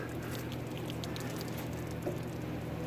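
Light rain patters steadily and softly outside during window cleaning, a fine continuous hiss with a low steady hum underneath, no talking.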